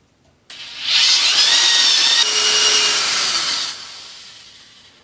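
A power drill whirs at high pitch and bites steadily into a stripped metal quill stem bolt at low speed with cutting oil for about three seconds, then winds down and fades out.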